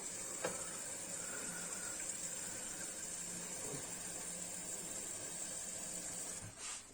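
Water is poured steadily over apple and pear peels and cores in a pot, a continuous hiss that stays constant throughout and eases off near the end, with no speech.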